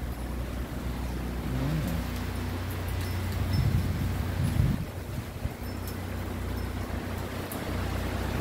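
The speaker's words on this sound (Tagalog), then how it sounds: "Pero ang hangin, ang lakas." Strong wind from Super Typhoon Uwan buffets the microphone in a steady, loud rush with gusty surges and low rumbling, with no voices.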